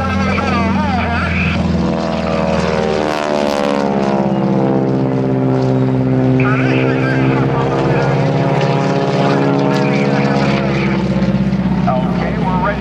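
A propeller-driven military advanced trainer aircraft at an airshow, a loud sustained engine drone that rises and falls in pitch as it pulls up and rolls, close and steady for the whole stretch with no pause.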